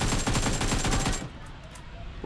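Rapid automatic gunfire in a multiplayer shooter video game bursts loudly for about a second, then cuts off to quiet background noise.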